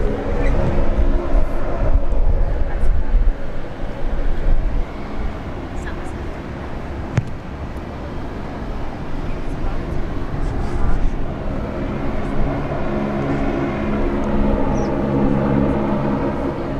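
Jet airliners at Sydney International Airport, a continuous loud broadband engine roar with a low rumble that holds steady across the clip, with a brief sharp click partway through and faint voices underneath.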